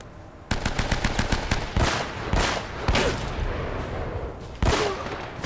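Rapid bursts of automatic gunfire in the video game Uncharted: Drake's Fortune, with sharp individual shots, loud and punchy, coming in several volleys with short gaps between them.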